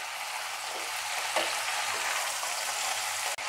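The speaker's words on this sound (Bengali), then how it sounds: "এখন শুধু একটু ভাজা ভাজা করতে হবে" Pointed gourd and potatoes frying in a pan for a Bengali posto dish, a soft steady sizzle with faint occasional stirring clicks, close and alone.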